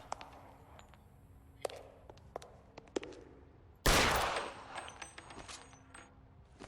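Gunfire aimed at the player in L.A. Noire: scattered sharp, distant-sounding shots crack at irregular intervals, then a louder close blast with a decaying tail, followed by more faint shots.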